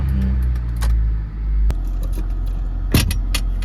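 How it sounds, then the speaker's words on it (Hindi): A car engine turning over and catching early in the morning, a steady low rumble with a jangle of keys and a couple of sharp clicks, close by and with no talk. "गाड़ी स्टार्ट करें, बिस्मिल्लाह करें।"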